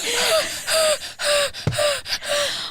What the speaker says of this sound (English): do you want me to start doing some heavy breathing for you?